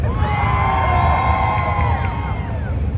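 A car and truck show crowd cheers and whoops for a Corvette, a loud sustained roar of voices with shouts rising over it for the full few seconds.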